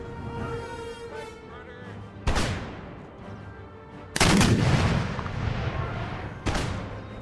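Musket volleys and artillery from an Empire: Total War battle crack out in several loud booming bursts over a continuous rumbling din of distant gunfire.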